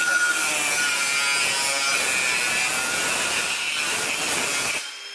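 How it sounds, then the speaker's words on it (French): Angle grinder fitted with a cutting disc slicing through a metal furring channel for a plasterboard suspended ceiling, a loud continuous high-pitched whine with gritty rasp, close up, winding down at the end. "je prends tout simplement la meuleuse équipée d'un disque à découper"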